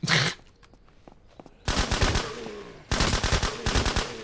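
Automatic gunfire from the zombie survival game SurrounDead, used against infected: two long, loud, rapid bursts of shots, each lasting over a second, separated by a short lull with scattered single clicks and shots.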